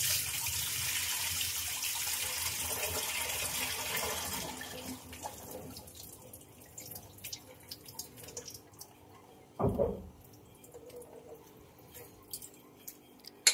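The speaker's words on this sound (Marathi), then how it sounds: "छान पाणी नितरून घेते आता" Water pours and drains out of a basket of washed, soaked grain, a steady wash that thins into scattered drips and trickles, with one brief splash midway.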